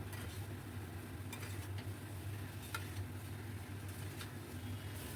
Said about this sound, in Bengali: খুব ভালো করে আমি এই আলুর মধ্যে মশলা যাতে ঢুকে যায় সেই জন্য ভালো করে কষাবো